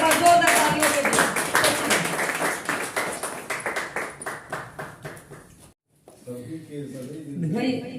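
An audience at a poetry open mic claps in a brisk burst that thins gradually into scattered claps, followed by a brief silence and then voices.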